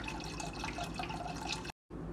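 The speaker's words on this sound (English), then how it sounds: "1 cup of white vinegar" White vinegar streams into mason jars packed with red onions for pickling brine, a continuous close pouring gurgle with light splashing, broken by a short silent gap near the end.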